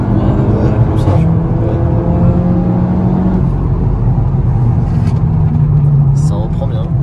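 Seat Leon Cupra 290 with DSG gearbox accelerating, a steady loud engine drone with rising tones throughout, heard from inside the car while a person talks over it.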